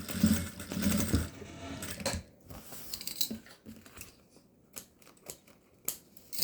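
A sewing machine stitches a fabric cosmetic bag in a short burst of steady whirring, followed by scattered clicks and handling noises of fabric being adjusted at close range.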